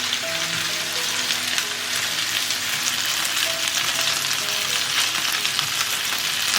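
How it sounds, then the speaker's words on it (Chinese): Chicken wings sizzling in a frying pan with a little oil over medium heat, now cooking on their second side; a constant close crackle and spatter runs throughout, unbroken by speech. "一面煎到金黄，再放另外一面煎"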